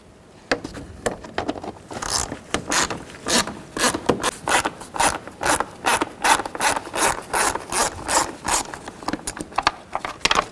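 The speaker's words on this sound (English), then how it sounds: "Take a T25 and loosen up all these screws around the airbox." A T25 Torx driver loosens the airbox screws on a 2010-16 Buick LaCrosse, producing a quick, rhythmic series of close ratcheting and grinding clicks with brief pauses between bursts.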